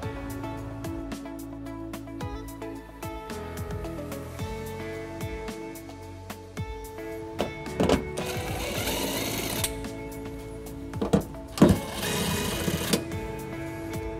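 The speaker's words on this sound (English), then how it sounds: "to remove the nuts, we're going to use a 10mm socket" A 10mm socket wrench ratchets nuts off the underbody panel of a 2013 Kia Rio in two rapid, buzzing bursts of clicks. A steady tonal background hum runs underneath.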